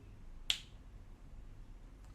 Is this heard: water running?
no